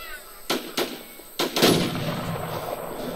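Gunfire in the video game Warzone: a handful of sharp shots spaced apart, with a louder burst near the middle trailing into a lingering rumble, fairly close and with no talk over it.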